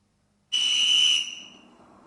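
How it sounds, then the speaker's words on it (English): One sharp, shrill referee's whistle blast, held for under a second, then trailing off into a fading echo. "the sound of the whistle blown by the referee"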